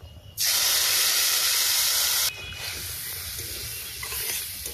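A mixed spice paste hits hot oil with fried bay leaves and dried chillies, bursting into a loud, steady hissing sizzle that cuts off after about two seconds and settles into a quieter, continuing fry.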